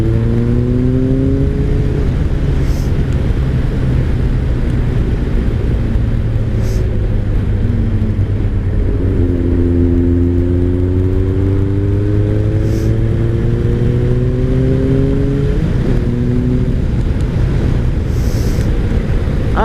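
A 2003 Kawasaki ZR7S motorcycle engine idles steadily up close, then revs rise and fall in a couple of smooth swells before settling back, with wind rushing across the microphone.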